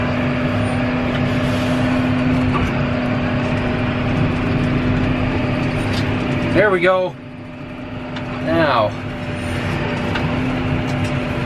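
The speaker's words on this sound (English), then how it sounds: "tractor's sliding into the side of the driveway" A tractor engine labors while pulling on an icy farm driveway as ice pellets fall, a steady loud mechanical drone with a brief strained whine near the end, while someone speaks a few words over it.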